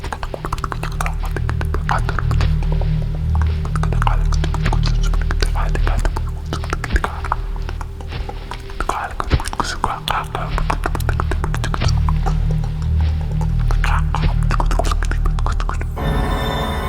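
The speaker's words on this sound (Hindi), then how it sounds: "पूरे जंगल में एक अजीब सी जाप करने की आवाज गूंज उठी" Eerie ritual chanting resonates through a forest in a Hindi horror tale, a low droning hum of many voices that stays steady and loud throughout, with faint whispery textures layered above it.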